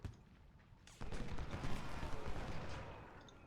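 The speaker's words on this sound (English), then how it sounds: "now we're starting to hit Law with artillery" Artillery in Ultimate General: Civil War: after a faint opening, a sharp boom at about one second opens a dense stretch of rumbling cannon and musket fire that lingers at moderate, slightly distant loudness.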